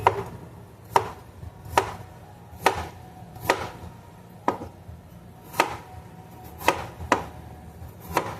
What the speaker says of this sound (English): I take 3 of them, cut it right down the middle like that, and then I cube it